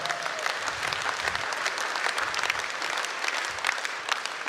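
A hall audience bursts into steady, dense applause at a Kyrgyz comedy show, many hands clapping continuously and evenly throughout, fairly close and sustained with no talk over it.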